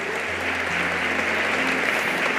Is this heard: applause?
yes